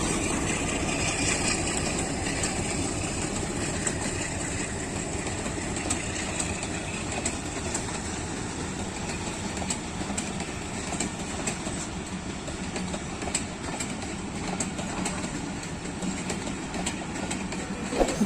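Pakistan Railways 14DN Awam Express pulling out of Attock City Junction behind locomotive PHA 28304: a steady, loud rumble of rolling wagons with rhythmic wheel clatter and a constant engine drone throughout, no voices.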